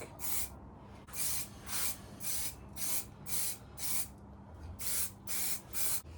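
A spray gun hisses in about ten steady, evenly spaced bursts while painting alloy wheels, each pass rising and falling over a low continuous hum, with no talking.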